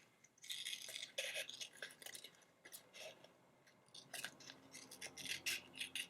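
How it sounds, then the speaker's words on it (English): Scissors snip through a paper circle for a Valentine's rosette craft, a close series of crisp, uneven cuts and rustles following a folded line, quiet and without talk. "And then cut out the circle right in the middle there."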